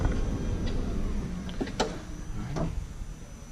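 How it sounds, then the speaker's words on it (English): The power rear sliding door of a 2016 Honda Odyssey minivan running through its cycle: a motor whir with a few sharp mechanical clicks and latch clunks, close and alone. "Power rear sliding doors."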